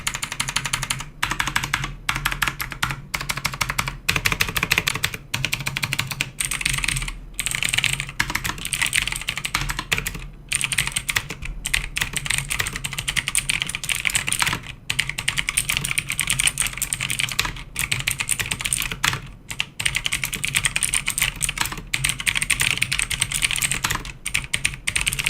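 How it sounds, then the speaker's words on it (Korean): Steady, dense clatter of typing on an XPG INFAREX K20 mechanical keyboard with clicky Kailh blue switches, close and loud, running continuously with brief pauses between bursts. "이 키보드의 타건음과 타건감 어떨지 제가 한번 타건을 쳐보도록 하겠습니다"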